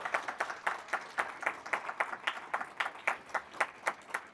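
A university awards audience claps for the administration, a steady stream of brisk, close handclaps from a small crowd with no voices over it.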